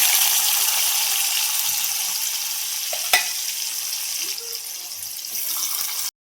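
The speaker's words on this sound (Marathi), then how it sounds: "आता हे चांगलं तळसलं त्याच्यात कांदा टाकतो भाजायला" Onion frying in a pan with crushed coriander and curry leaves, a continuous close sizzle with a sharp clatter midway and a few faint stirring bumps, no voices.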